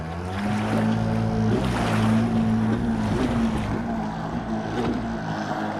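Yamaha Wavejammer 650 personal watercraft, its engine under a modified hood and recently replaced, droning loud and steady on the water, the pitch wavering slightly with throttle, along with wind and splashing. No voices.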